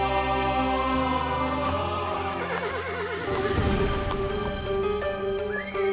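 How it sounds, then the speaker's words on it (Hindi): A horse neighs loudly in a long, wavering whinny, with hooves clip-clopping as it comes to a stop outside a house early in the morning. "इतनी सुबह किसका घोड़ा आके मेरे घर के सामने रुका हुआ है?"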